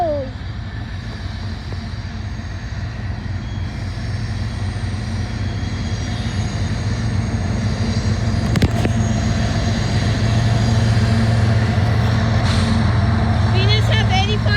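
A loaded BNSF coal train rolls past, led by units 8595 and 6329, a steady loud low rumble of wheels and cars that builds slightly over the span, with a brief sharp clank partway through and a faint high squeal near the end.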